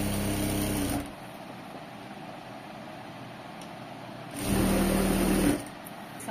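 A sewing machine stitches a fall onto a saree in two short, loud, fast runs of whirring stitches, separated by a few seconds of quiet room noise.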